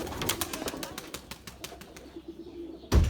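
A white pigeon coos and flaps its wings in a series of rhythmic bursts, close and fairly loud, ending with a sharp loud knock.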